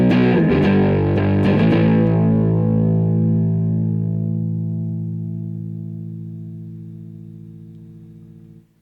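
A Scirocco distortion pedal with its tone color changed, driving electric guitar: a few strummed, saturated chords at the start, then one long distorted chord sustaining and slowly fading over several seconds, played alone.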